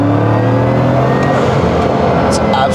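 Turbos spooling and a wastegate fluttering on a $5,000,000 one-of-60 Bugatti while it is driven, a loud, steady engine roar with whooshing turbo noise and short hissy bursts near the end, and a voice talking over it.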